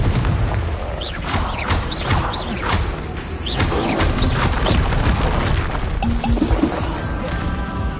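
Spell-casting explosions from the Hogwarts Legacy video game: repeated crashing blasts and booms with whooshing magical bursts, dense and loud throughout, with splashy, liquid-like impacts in a busy battle soundscape.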